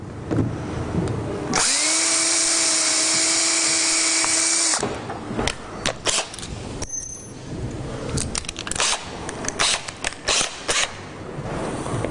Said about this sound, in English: So first we'll pre-drill it.